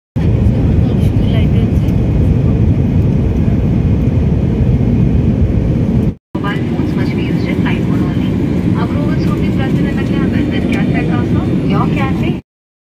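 Airplane cabin noise during a flight, a loud, steady low roar of the engines and airflow that cuts out briefly midway and then returns, with faint sounds from the cabin.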